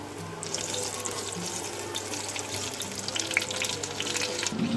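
Water lily flower pakoras frying in hot oil give off a steady, close, even sizzle that holds for several seconds, with no voices.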